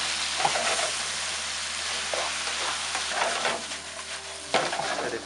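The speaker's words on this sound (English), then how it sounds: "at this stage we'll add the prawns and our tofu and squid balls" Prawns, tofu and squid balls sizzle steadily in a hot pan, with a loud continuous frying hiss broken by occasional scrapes and stirring clatter.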